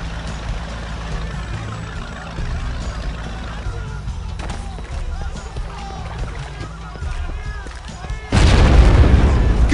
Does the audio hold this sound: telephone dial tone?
no